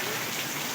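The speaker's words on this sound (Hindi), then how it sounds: "ओए कितनी तेज़ बारिश हो गई है।" Heavy rain pouring down in a steady, dense hiss, loud and close, with no other sounds.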